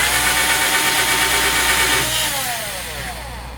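A power drill boring a round hole through wood for cabinet speaker panel holes, loud whining and grinding that drops in pitch and fades as the bit breaks through.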